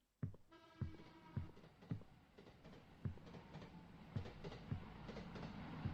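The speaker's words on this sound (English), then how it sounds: "Oh, that's the train." A train passes in a horror video game: a steady low rumble with rhythmic, evenly spaced wheel clacks that build and grow louder over the whole stretch, with no talk.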